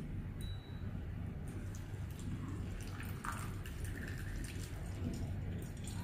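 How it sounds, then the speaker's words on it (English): Water pours steadily into a bottle with a continuous, even splashing rush that lasts throughout, close and moderately loud. "I will continue pouring the water in the bottle."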